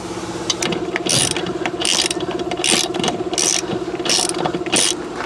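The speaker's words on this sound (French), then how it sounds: "Et donc là, serrage à 136 newtons." A torque wrench ratchet tightens bolts on a Z-drive during a Princess 286 boat renovation, giving loud, close, rapid clicking pawl bursts that repeat in regular strokes over a steady mechanical background.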